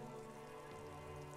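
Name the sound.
rain falling in Disco Elysium video game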